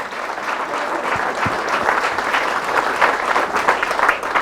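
A church congregation applauds after a Bible reading, a steady, dense burst of clapping from many hands that fills the room at full volume.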